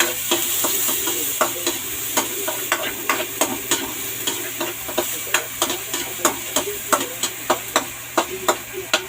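Onions sizzle and fry in a pan for a simple vegetable dish of upo (calabash), with a steady hiss broken by a string of sharp utensil clicks and scrapes against the pan at a fairly regular pace, close and alone.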